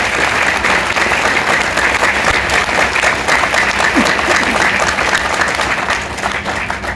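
A large seminar audience claps steadily and loudly, a dense continuous applause that holds throughout and eases slightly near the end.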